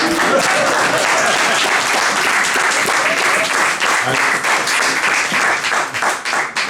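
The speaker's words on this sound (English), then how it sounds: "Applause, please." Loud, sustained applause from a large crowd at a media launch, many hands clapping steadily without pause, fading slightly at the end.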